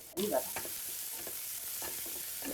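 Shepu bhaji, a dill leaf vegetable, being stirred in a hot frying pan, with steady sizzling throughout and repeated scraping strokes of the spoon against the pan, close and clear with no talking.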